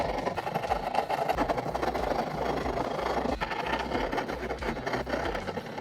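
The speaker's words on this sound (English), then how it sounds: "I will use the file to smoothen out the edges." A hand file smooths the edges of a freshly drilled hole in a Jamo D7 subwoofer panel, producing a steady, fairly quiet rasping with rapid repeated strokes and a low mechanical hum underneath.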